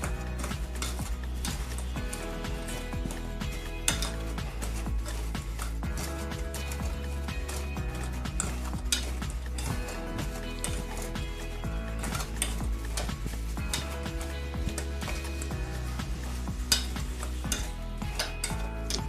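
Chicken wings are coated in thick honey BBQ sauce, producing soft repeated sticky stirring and scraping sounds in a bowl, close and fairly quiet, with occasional light knocks of utensil against the dish.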